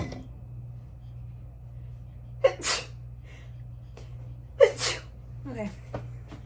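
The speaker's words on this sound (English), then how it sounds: "I need to sneeze." Two sharp sneezes from a person during kitchen cupcake baking, each a sudden loud burst with a breathy tail, spaced about two seconds apart over a low steady hum.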